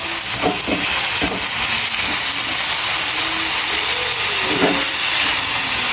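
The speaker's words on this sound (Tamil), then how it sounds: "மற்றது வெங்காயம் எல்லாம் வதங்குது." Onions sauté with ginger and garlic in a pan during night cooking in Jaffna, producing a loud, close, unbroken hissing sizzle from start to finish.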